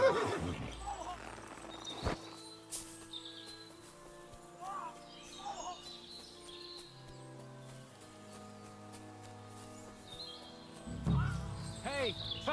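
A horse neighs and whinnies in the medieval video game Kingdom Come Deliverance 2, with a few clip-clop hoof steps and faint birdsong amid game music. A louder whinny comes near the end.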